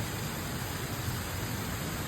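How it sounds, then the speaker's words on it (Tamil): Heavy rain pouring during a thunderstorm, a steady, dense hiss of falling water that stays even and fairly loud for the whole stretch with no voices. "பாருங்க மழை எப்படி அடிக்குதுன்னு"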